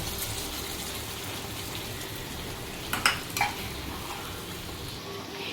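Chicken frying in a pan gives a steady, even sizzle, with a couple of brief splashes and clatters as a little water goes in, heard close and alone.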